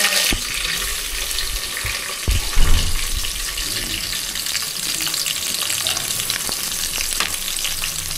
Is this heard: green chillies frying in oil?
yes